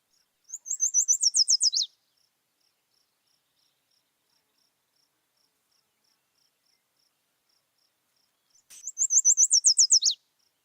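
Two identical songs from a yellow warbler, separated by a long pause: each a rapid series of sweet, high chirps ending in a quick downslurred flourish, crisp and clear, with a faint steady ticking insect-like note between them.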